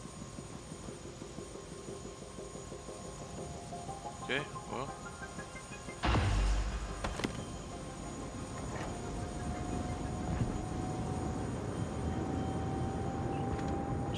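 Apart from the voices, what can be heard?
helicopter engine, from video game Prey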